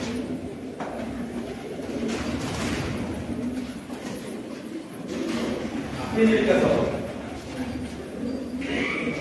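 Pigeons of the Shakhshirli breed coo at a bird auction, with soft, low cooing under steady background noise and nearby voices talking throughout.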